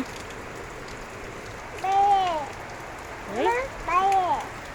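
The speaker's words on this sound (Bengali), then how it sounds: "আজকে কতদিন পরে কত বৃষ্টি পড়ে" Heavy rain falls in a steady, hissing wash throughout, while voices speak over it in two short bursts.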